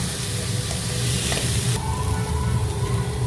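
Chopped onion sautéing in a pan while spinach chicken is being cooked, giving a steady close sizzle with occasional stirring scrapes and no talk.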